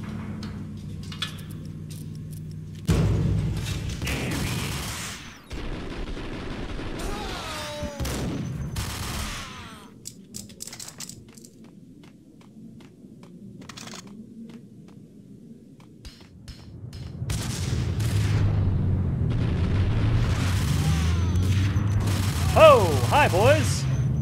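Grenade explosions and bursts of gunfire in the video game Max Payne, loud booms and rattling shots in clusters across the stretch, with someone talking over parts of it.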